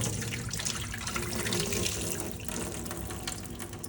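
Water is drained off cut potatoes in a kitchen, a loud, steady rushing splash like a running tap into a sink, close and continuous throughout with no voices.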